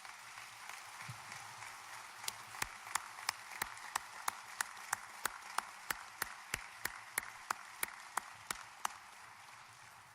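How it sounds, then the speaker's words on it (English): Applause at a heroes' salute ceremony honoring a retired chief, heard as a slow, regular series of sharp single claps, about two per second, standing out over a quiet hiss of room noise. "Please join me in applauding Chief Friz."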